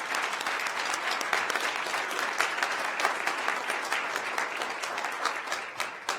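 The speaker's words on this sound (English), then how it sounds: "I'd like for us all to give you a round of applause right now." A county commission meeting audience gives a round of applause, a steady stream of individual claps heard fairly close that thins out toward the end.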